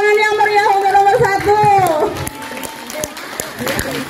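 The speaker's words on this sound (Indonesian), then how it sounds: "tepuk tangan yang meriah untuk nomor" Students at a school student council election debate applaud candidate number one, with a burst of scattered clapping and chatter after a voice speaks over the room.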